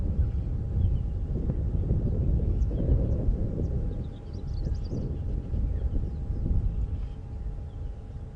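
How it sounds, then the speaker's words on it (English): Strong wind buffeting an open safari vehicle in the African bush, a loud continuous low rumble of gusts battering the microphone, steady for several seconds with slight dips, no voices. "Wind is picking up a bit."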